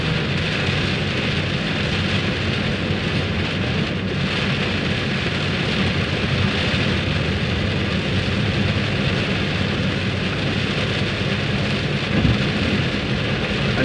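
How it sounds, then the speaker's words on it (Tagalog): Heavy downpour on a road, a dense, steady roar of rain that stays loud and unbroken throughout, with no voices. "Malakas na malakas ang ulan."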